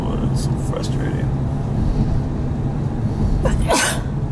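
Two quick sneezes, sharp and close, burst out inside a vehicle during a storm chase over a constant low road rumble, and people talk nearby.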